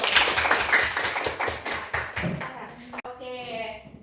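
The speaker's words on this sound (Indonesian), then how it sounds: "tepuk tangan dulu" Pupils in a classroom clap their hands in a rapid, rhythmic series of close claps, then the clapping stops and a voice begins speaking.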